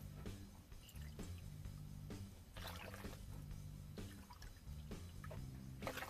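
Three cups of water poured into a container for washing produce in a semi truck, with faint trickling, splashing and dripping, plus soft knocks and low hum in a quiet, close space.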